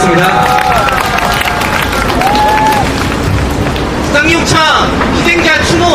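Crowd applause and cheering at an outdoor candlelight rally in Seoul for SsangYong Motor laid-off workers, steady and dense throughout, with a voice speaking over it and some louder shouts near the end.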